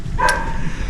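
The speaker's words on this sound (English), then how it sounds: "Sorry about the dog barking." A neighbor's dog gives a single sharp bark at moderate distance, brief and distinct over faint outdoor background.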